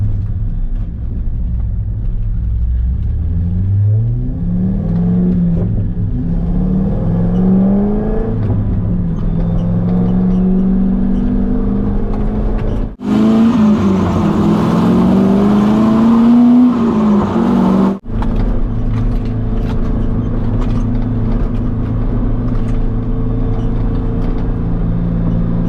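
A C5/C6 Corvette fitted with QA1 double-adjustable coilovers drives on streets. Its engine rumbles loudly and rises through several revving accelerations and gear changes, recorded close and continuous, with one brief cut midway.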